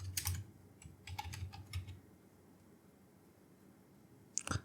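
Quick bursts of typing on a computer keyboard while entering a search, close and fairly quiet, with a few clustered keystroke runs followed by a pause and a final short clatter of keys.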